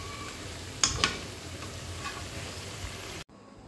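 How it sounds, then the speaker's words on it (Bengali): Onions fry in a pan for iftar with a soft, steady sizzle, punctuated by a couple of sharp utensil clicks before the sound cuts out abruptly near the end. "একটু পেঁয়াজ ভাজা শুরু হচ্ছে।"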